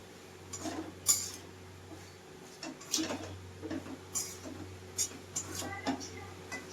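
A utensil scrapes and clinks against a pan while bottle gourd greens and prawns with chili powder are stirred, irregular soft knocks and scrapes over a low steady hum, fairly quiet and close.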